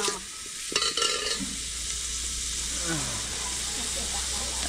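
Ginger garlic paste sizzles and fries in a pan for paya soup cooked on a village wood stove, a steady close hiss with a few stirring scrapes, and a voice speaks briefly near the start.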